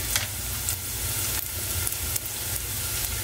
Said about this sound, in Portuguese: Fritando alho.